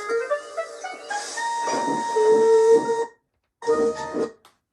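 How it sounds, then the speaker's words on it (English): A steam whistle sounds in long sustained tones, then stops briefly and blows again in a shorter blast, with hissing steam underneath. "Is it just me, or did Scarlowey have Duke's whistle?"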